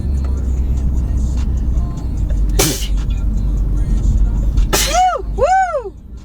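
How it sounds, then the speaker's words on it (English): A woman sneezes loudly at close range inside a moving car, a sharp burst followed by gasping, rising vocal sounds, all over the constant low rumble of the road. "Oh, I'm gonna sneeze."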